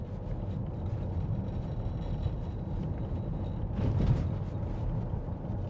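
A 2016 Porsche Cayenne 4.2 TD V8 S diesel with Tiptronic S gearbox, its engine humming at a low, steady idle and swelling slightly as it revs toward 1500 rpm, heard from inside the car with no talking.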